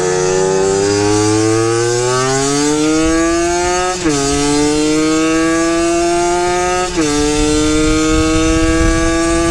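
A Yamaha YSR50 mini street bike with a small two-stroke engine revs up steadily through its gears, pitch climbing in each gear with two brief dips at the shifts, loud and continuous with no talking.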